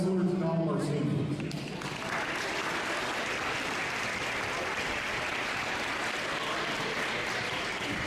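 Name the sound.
applause for wrestlers and seniors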